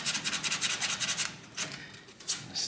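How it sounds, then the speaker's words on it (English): Bondo body filler being sanded out of a panel seam with folded 80-grit sandpaper: a rapid, steady back-and-forth rasping in quick strokes, then a pause and a few slower, separate scrubs, close and fairly quiet with no talk. "just start sanding."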